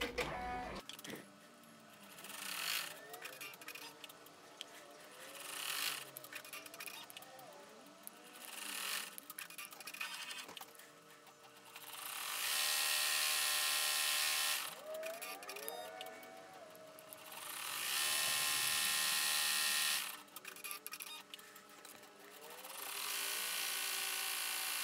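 An embroidery machine stitches a steampunk 3D hair bun holder in the hoop, a steady mechanical whirring and rapid needle ticking that runs in long loud bursts separated by quieter pauses, with no talk.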